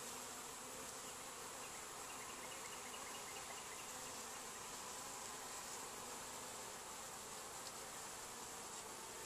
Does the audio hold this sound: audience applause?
no